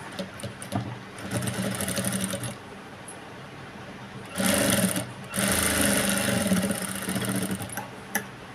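A sewing machine stitches a folded hook strip for a blouse, running in steady mechanical bursts with short pauses between them, close and fairly loud, with no talking.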